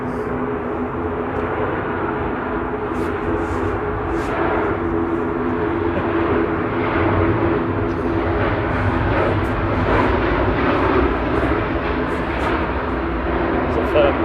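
A Ryanair airliner arriving from Prague at Manchester Airport gives a steady, moderately loud engine drone with a tonal hum, heard under ongoing talk.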